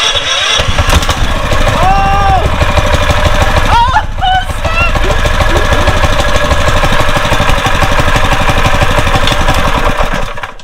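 A Predator 212cc small engine cranks over on a newly installed electric starter and catches, running loudly and steadily close by with a brief vocal exclamation over it.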